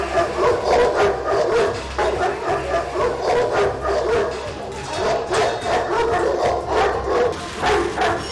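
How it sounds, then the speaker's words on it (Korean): Ovcharka dogs, a Russian breed, barking aggressively at a kennel, loud continuous overlapping barks and yelps from several large dogs close by, with no pause. "그 몸집도 그 짖는 소리도 두려움이 느껴질 정도입니다"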